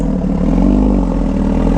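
Motorcycle engine with a loud new Rush custom exhaust running close and steady, a short sustained drone with a slight swell in pitch, no talking.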